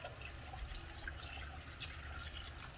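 Tap water runs steadily into a coffee can full of rocks in a sink, a soft continuous splash and trickle heard close up with no voices.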